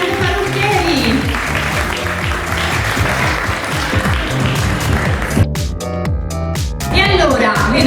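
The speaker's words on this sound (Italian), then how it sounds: "Un grande applauso, eccoli" An outdoor crowd claps steadily for the Sam Parrucchieri hairdressers at a Miss beauty pageant in Piazza Europa Unita, Castelfranco Veneto, with an announcer's voice carrying over the applause.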